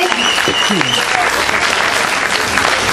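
Loud, dense applause at the Miss Krkonoše 2010 beauty pageant continues steadily for three seconds, with voices audible beneath the clapping.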